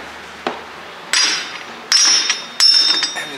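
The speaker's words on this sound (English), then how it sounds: "And that just needs a couple taps." A hammer taps the yoke on a Jeep JK Dana 30 axle during a regear, giving three sharp metallic strikes with ringing tails spaced about a second apart, preceded by a lighter knock.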